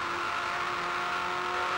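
Holden Commodore and Ford touring cars roar down the main straight in a drag race, a loud, steady engine drone that holds without a break.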